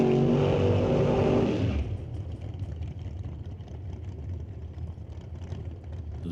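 Loud 1948 Austin drag race car at a qualifying event, a roaring engine blast that cuts off abruptly after about two seconds, followed by a lower rumbling idle and crowd ambience.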